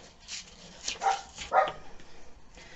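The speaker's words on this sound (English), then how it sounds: "Never mind my noisy dogs" Small dogs barking a few times at a distance in a quiet room, short faint yips and woofs spaced about half a second apart.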